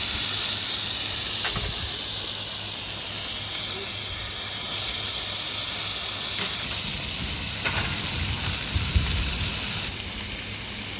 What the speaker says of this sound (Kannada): ಇವಾಗ ರೆಸ್ಟೋರೆಂಟಲ್ಲಿ ಸ್ಪೆಷಲ್ ಫಿಶ್ ಫ್ರೈ ಎಲ್ಲ ಮಾಡ್ತಿದ್ದಾರೆ